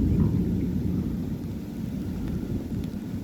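Rain and thunder from an approaching storm during a wind storm in Charters Towers, with a continuous low rumble and steady wash of rain and wind holding loud throughout, no distinct thunderclap standing out.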